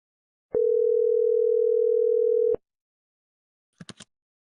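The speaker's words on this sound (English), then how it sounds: "I'm dialing it right now." A telephone line gives a steady tone of about two seconds that cuts off sharply, then after a silence three short clustered electronic blips follow while a number is dialed.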